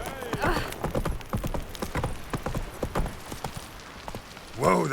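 A horse's hooves clop in a quick, steady rhythm in The Witcher 3 video game, close and fairly loud, with a brief vocal sound near the end.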